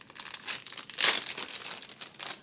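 A sealed plastic bag holding a shiny metal PC I/O shield is torn open during a computer build: close, crisp crinkling with a sharp tearing burst about midway, then lighter rustling.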